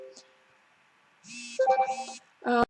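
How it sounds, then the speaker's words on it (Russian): Phone notification chimes, a short electronic tone burst followed by a louder melodic alert pattern, near and clear over a quiet room. "сейчас я выключу уведомления"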